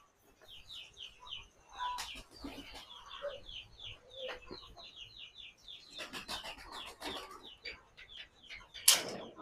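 Passion chickens cluck inside their coop in a village barn, a busy run of short clucks and chirps, several birds at close to middle distance, with a louder squawk near the end.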